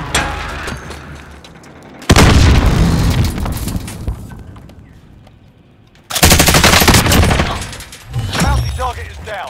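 Stoner machine gun firing in Call of Duty Warzone: loud sustained automatic bursts, one around the middle and another near the end, with booming impacts and echoing tails between them.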